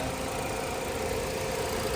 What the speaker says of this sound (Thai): การทำงานของเครื่องยนต์คือเดินนิ่งมากนะฮะ